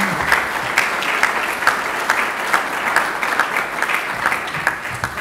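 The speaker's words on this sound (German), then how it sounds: "das ist auch noch ein Applaus" Steady applause from a crowd at an evening citizens' discussion salon on political trust, dense continuous clapping at moderate loudness with no talking over it.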